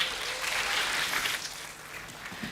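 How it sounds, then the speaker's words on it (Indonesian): Congregation at a JPCC online church service applauds a member, a steady broad wash of clapping filling the room at moderate level for a few seconds. "berikan tepuk tangan dulu buat Adit"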